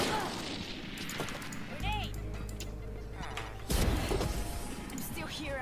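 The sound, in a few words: gunshots in a first-person shooter video game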